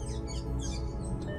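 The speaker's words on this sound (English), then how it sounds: "As the birds are singing" Birds sing and chirp outdoors, faint and distant, with a few high tweets over a low steady background hum.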